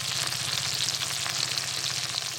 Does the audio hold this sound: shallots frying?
yes